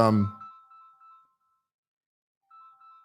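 A phone ringtone plays as a quiet, thin electronic tune of repeating beeps, pausing and then resuming, after a brief moment of speech.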